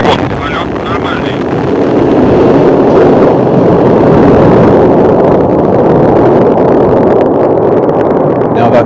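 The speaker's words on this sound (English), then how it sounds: "we have liftoff of an ILS Proton from the Baikonur Cosmodrome in Kazakhstan with the Turksat 4B satellite" ILS Proton rocket lifting off from Baikonur Cosmodrome in Kazakhstan carrying the Turksat 4B satellite, a loud, continuous rumbling roar with heavy low-end and wind-buffeted crackle, sustained throughout without letup.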